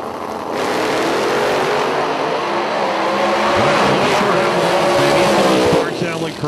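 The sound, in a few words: drag racing car with 632 cubic inch engine and nitrous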